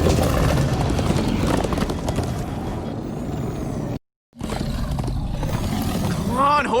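Minecraft Story Mode video game horses gallop, rapid hoofbeats pounding close by with a rumbling roar, a brief dropout of silence, then the galloping resumes along with a short whinny-like squeal.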